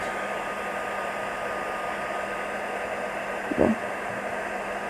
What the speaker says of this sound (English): The heat gun is super hot now